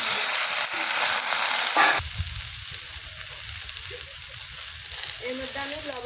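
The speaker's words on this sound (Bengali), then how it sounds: "এখানে আমি সবজি নিয়ে নিয়েছিলাম, আলু, বেগুন, কচু। এগুলোকে আমি এখন এর মধ্যে দিয়ে দেব।" Potato, eggplant and taro pieces frying in hot oil with onions: a loud, continuous sizzle that shifts and settles as the vegetables go into the pan, close up with no talk.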